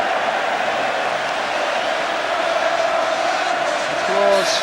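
A football crowd at the 1984 FA Cup match between Everton and Watford keeps celebrating in a steady, distant roar of cheering that swells briefly near the end.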